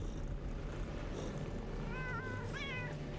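Video game cat meowing, two short rising-falling meows near the end over a constant low droning background hum, with no talking.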